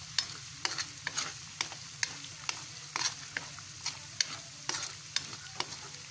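Latik, coconut curds, cooking in a pan, with a steady close sizzle broken by regular clinks and scrapes of stirring about every half second.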